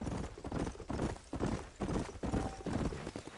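Horse hooves clip-clop steadily in Red Dead Redemption as a rider urges the mount out of town, a rhythmic run of close hoofbeats with a brief whinny-like tone.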